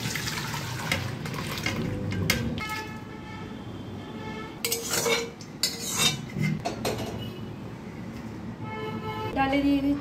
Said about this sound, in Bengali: ডাল এখন আমি হাঁড়িতে ট্রান্সফার করে দিচ্ছি।